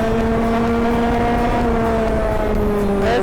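A barn-find racing kart runs on track on cold slick tyres, its engine droning steadily and loudly as the pitch holds and then rises near the end, with no voices.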